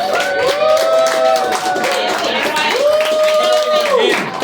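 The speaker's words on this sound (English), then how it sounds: "Can we give them a round of applause?" An audience claps for event staff, a full, continuous round of applause threaded with rising and falling whoops and cheering voices throughout.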